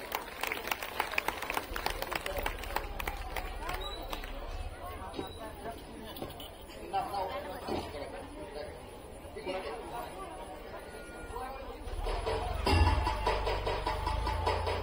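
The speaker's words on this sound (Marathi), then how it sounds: "एकदा जोरदार टाळ्या ह्या लहान लेकरांसाठी झाल्या पाहिजेत" An audience claps for young children at the Mauli Foundation 'Beti Bachao, Beti Padhao' certificate ceremony in Valkhad, with scattered applause over steady crowd chatter and people talking throughout.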